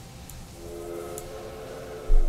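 A steady, moderately loud train horn tone in the video game Railway Empire 2 holds for about two seconds over low mechanical rumble, ending with a thump.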